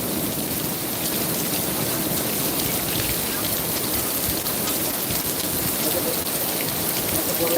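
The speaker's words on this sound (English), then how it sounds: "it doesn't feel like the rain's gonna let up" Heavy rain pours down steadily in Laureles, Medellín, Colombia, a dense, constant close-up hiss of drops striking surfaces with no letup from start to finish.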